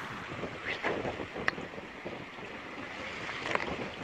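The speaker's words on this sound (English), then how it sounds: "we're just surfing these huge waves. Like, we're going down one now, right now" Volvo Ocean Race yacht surfing down huge waves at about 25 knots: steady roaring rush of water and wind buffeting the microphone, with a couple of sharp splash hits, no voices.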